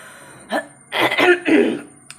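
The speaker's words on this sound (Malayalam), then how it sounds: "നല്ല ചുമ ഉണ്ട് കേട്ടോ, ഇന്നലെ തൊട്ടിട്ട് നല്ല ചുമ ഉണ്ട്." A brief throat sound followed by a couple of harsh, close coughs in quick succession.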